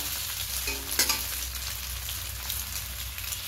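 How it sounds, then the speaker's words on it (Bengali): Eggs scramble and fry in a pan with a constant close sizzle, broken by a brief clink and scrape of stirring, with no voices. "প্রথমেই ডিমগুলো আমি একটু ভুজিয়া করে নেব"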